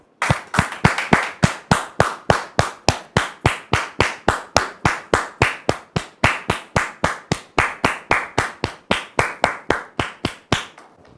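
A television studio audience claps in steady, strongly synchronized rhythm, a long even train of loud, crisp hand claps at a regular pace that carries on alone before stopping abruptly.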